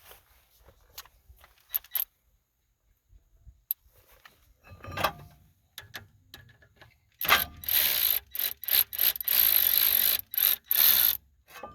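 A ratchet tightens a steering bolt on a 1978 Chevrolet C10 truck, with a few scattered clicks and knocks early, then a loud run of fast, close ratcheting clicks in repeated bursts with short pauses.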